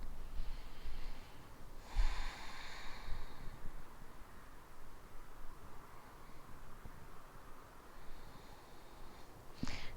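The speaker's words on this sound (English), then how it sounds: "2 deep breaths." Deep breaths during a yoga stretching class, slow inhales and exhales that are faint against a steady background hiss, with a breath near the start and another toward the end.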